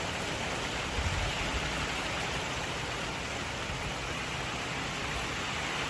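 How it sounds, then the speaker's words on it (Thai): Light rain falls steadily outdoors in a Thai garden with new plants, a soft, even hiss of drizzle that stays constant, with a small thump near the start and no voices. "ได้ยินเสียงฝนสดชื่น"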